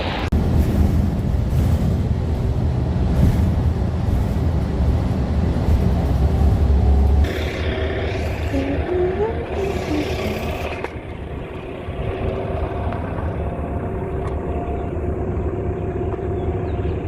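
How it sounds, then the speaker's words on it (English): Traffic noise in Dallas as city buses pull up: a loud engine rumble that drops off partway through, then a quieter idling hum with passing vehicle sounds. "these buses in Dallas be pulling up on you"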